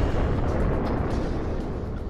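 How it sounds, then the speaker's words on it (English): A massive asteroid impact explosion, rendered as a loud, sustained rumbling roar with dense low-end turbulence that stays steady and close for about two seconds, with no voices. "a massive asteroid impact"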